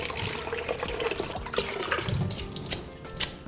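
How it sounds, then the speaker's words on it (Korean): Cooked naengmyeon noodles are rinsed under running cold water in a kitchen, a steady close splashing and gurgling of water with small sloshes as the noodles are worked by hand. "이렇게 하고 바로 찬물에, 끓이는 찬물에 요 미끌미끌 거리는 게 다 빠질 때까지"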